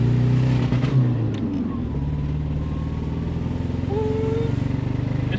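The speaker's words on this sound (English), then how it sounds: "but it makes cool turbo noises" A 1983 Opel GT turbo coupe engine idling with a slight misfire, a close, steady rumble with whistling turbo noises rising and falling over it.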